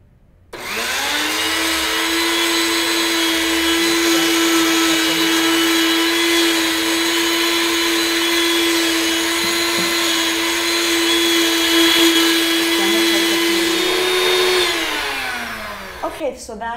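An electric blender whips cream in a kitchen with a loud, steady motor whine that runs unbroken for about fourteen seconds, then slows and cuts off.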